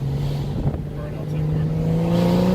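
A car doing burnouts, its engine holding a steady high drone that climbs toward the end, with a brief voice partly audible over it.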